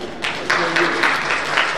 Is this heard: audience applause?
yes